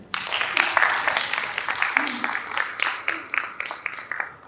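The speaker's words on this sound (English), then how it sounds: "So a big round of applause for them." Audience applause at a talk on alternative careers for doctors, a burst of clapping from a group that swells and then thins into scattered claps, with some voices mixed in.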